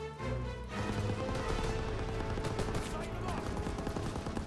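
Machine-gun fire rattles in a Call of Duty WW2 battle, with dense, continuous bursts of automatic gunfire and explosions filling the scene under shouted voices.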